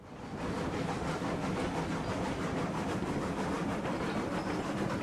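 In the video game Railroads Online a train rumbles steadily along the rails, building up over the first half second into a loud, close, continuous roll with faint rhythmic wheel clatter, no voices.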